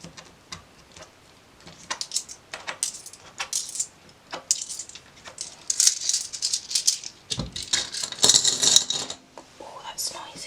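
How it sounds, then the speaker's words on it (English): Loose coins rattle and clink in irregular bursts as they are sorted by hand into cash-stuffing envelopes, close and fairly loud, with brief quiet gaps between handfuls and a denser jingling stretch near the end. "So I'll do the coins first because that's the noisiest part."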